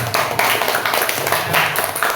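Elementary classroom applause, a brief burst of many pupils clapping at once, close and fairly loud with a rapid uneven patter, and no voices over it.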